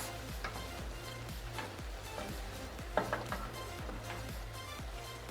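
Mongolian beef being stirred in a hot pan after a splash of dark soy sauce, a steady scraping and sizzling with regular utensil strokes and a few sharper clinks of metal on the pan.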